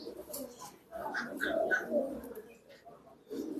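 Pigeons coo in short, throaty bursts at the busy Saruliya pigeon market, close and moderately loud, with pauses between calls and faint crowd murmur behind.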